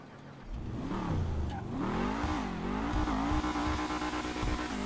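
Modified Dewbauchee Seven-70 sports car in GTA 5 Online, its engine revving up and down in waves before settling into a sustained, loud, rising drone of acceleration.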